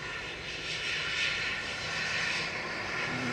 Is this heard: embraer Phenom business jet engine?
yes